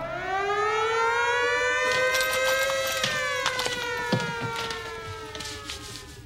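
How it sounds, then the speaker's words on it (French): A civil defense siren wails steadily with rising and falling harmonic tones, loud and continuous throughout, with faint clattering knocks over it in the second half. "Quand on entend la sirène, on change."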